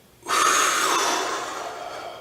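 A martial arts student lets out a deep breath during a beginner class: one forceful, airy exhale that starts abruptly, stays loud and close, then slowly fades over about two seconds, with no talking.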